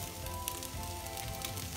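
Fried rice made from leftover cooked rice sizzles in a pan with a steady, crackly hiss, close and even throughout.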